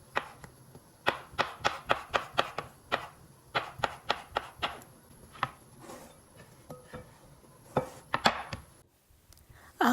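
Pickled cucumbers are chopped into long strips for a salad, a knife striking a cutting board in quick, steady rhythmic bursts with brief pauses, close and clear with no talking.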